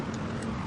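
Brief rush of a motorcycle on a city road in Palembang, a steady broadband roadway hum in the foreground amid general traffic.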